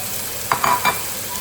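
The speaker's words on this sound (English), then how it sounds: "we're going to add our pork rasher from the braai that we've cut up and 1 piece of sausage." Cut-up braaied pork rasher and a piece of sausage drop into a hot pan, giving a short burst of sizzling and stirring that rises briefly over a steady low background hiss.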